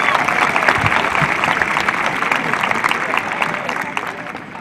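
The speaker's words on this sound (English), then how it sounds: "let's give Mr. Goodman a jump off here and give him a round of applause" An audience at a senior awards night claps for the MC, a sustained wash of applause from a full room, loud and steady before slowly thinning.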